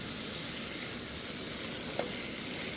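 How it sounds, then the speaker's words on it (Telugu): Cabbage cooked in hot oil in a pan for momos, a continuous, even sizzling hiss at close range with one brief clink of a utensil partway through. "ఈ క్యాబేజీ అనేది కొంచెం ఈ పచ్చి వాసన అదంతా పోయేంత వరకు మనం కొంచెం వీటిని ఇలా డీప్ ఫ్రై చేసుకున్నట్టుగా చేసుకుంటే సరిపోతుంది"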